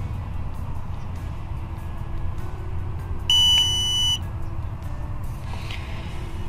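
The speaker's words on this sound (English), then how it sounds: "press and hold the set button until you hear a beep." A single short electronic beep from a TST 510 tire pressure monitor, bright and steady for under a second, rises over a low background hum.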